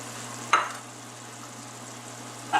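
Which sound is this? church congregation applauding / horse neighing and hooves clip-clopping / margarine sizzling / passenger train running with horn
margarine sizzling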